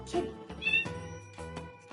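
An indoor female cat meows three or four times in quick succession, each call loud, close and tonal, with short gaps between.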